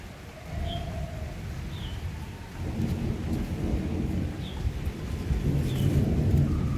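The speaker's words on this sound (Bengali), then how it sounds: "ঝিরঝির বৃষ্টি হয়ে যাচ্ছে" Light drizzle falls outside a balcony as a steady soft hiss, with a few faint bird chirps now and then above the rain.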